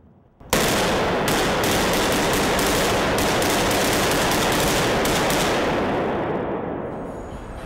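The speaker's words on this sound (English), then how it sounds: "And he brought his antique, his Thompson submachine gun." Thompson submachine gun, an antique relic, fires a long continuous burst of rapid shots that starts sharply and rattles on for several seconds before fading out, loud and close with no talk.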